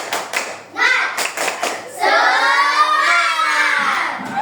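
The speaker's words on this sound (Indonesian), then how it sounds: "Tapi sebelumnya kita tepuk semangat dulu ya." Children in a classroom doing a rhythmic clapping cheer, a few quick group claps followed by loud sustained chanting voices, close and lively.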